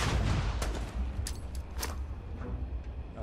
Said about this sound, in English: the grenade went off right under my feet